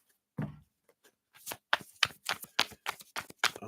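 A deck of tarot cards is shuffled close by, a soft thump followed by a quick run of crisp riffling flutters and papery snaps, with no voices.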